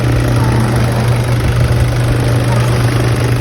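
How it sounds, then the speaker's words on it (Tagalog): A 2015 Toyota Fortuner engine idles steadily just after its fuel system was bled, a constant near, loud low hum with a mechanical drone throughout and no speech over it. "umandar na yung ating Toyota Fortuner. So inayos lang natin yung bleed ng fuel system niyan."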